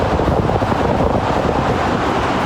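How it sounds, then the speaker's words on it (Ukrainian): Strong wind during a dusty storm buffeting the microphone, a loud continuous low roar and rumble with no voices. "Сильний вітер"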